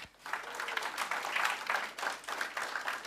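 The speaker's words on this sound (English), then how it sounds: "So please welcome Vicar with a loud round of applause." An audience applauds in a mosque during a talk, a dense patter of many hands clapping together in uneven surges, moderately loud and fairly close, with no voices standing out.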